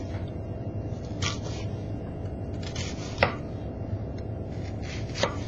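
A knife cutting down through an onion on a cutting board gives a few soft, sparse chops, with sharper knife-on-board taps near the end over a quiet background.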